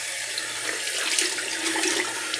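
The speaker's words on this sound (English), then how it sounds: "Cold water rinse." A steady stream of cold water runs from a tap, a continuous close hiss and splash with no voices.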